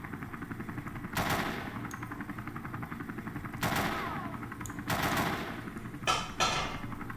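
Rapid bursts of gunfire at shooting-range targets in Call of Duty on the Nintendo DS, a steady rattling automatic weapon with several louder sharp shots over continuous game noise, close and without talk.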